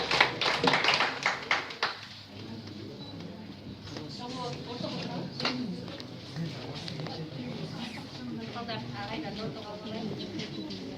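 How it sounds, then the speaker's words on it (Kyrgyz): Participants at a student intellectual competition clap together in a burst of applause at the start, which fades into murmured talk and scattered taps from the room. "Келиңиздер катышуучулар, кол чаап туралы."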